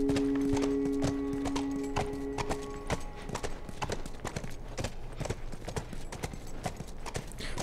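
Horse hooves clip-clop in a steady, fairly close rhythm through the whole stretch in The Last of Us game, with a brief whinny-like tone near the start and no talking.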